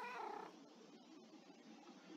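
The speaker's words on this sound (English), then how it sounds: "I have 2 variants of kitties over here" A pair of cat varieties in a village-building video game let out a short meow near the start, then soft game ambience with faint clicks follows.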